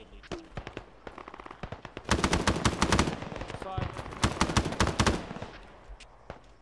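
Rapid gunfire in the military video game Arma 3, bursts and single shots crackling over a valley firefight, a sparse first two seconds giving way to dense, sustained volleys before tapering off.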